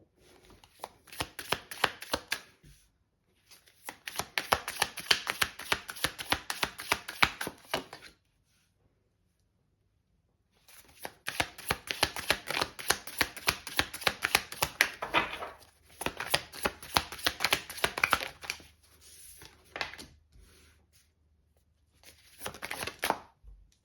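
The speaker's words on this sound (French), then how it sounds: "Donc, je vais déposer les cartes." Tarot cards being laid out and shuffled on a table, with rapid dense flicking and slapping in several long bursts separated by short pauses, close and fairly loud with no talk.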